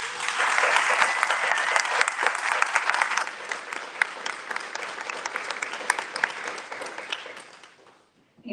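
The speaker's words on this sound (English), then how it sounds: "can you please stand up so we can give you a round of applause?" Audience applause at a community meeting honoring commission members, brisk dense clapping from a room full of people that gradually thins and fades to silence at the end.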